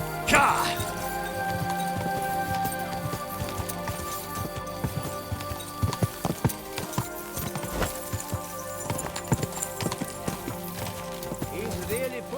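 Horse galloping in Kingdom Come: Deliverance 2, steady clip-clop of hooves running under ongoing game ambience, with someone talking over it throughout.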